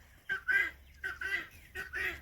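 Rooster and chickens calling in a yard, three loud squawking clucks in an even rhythm, close by and clear over faint background noise.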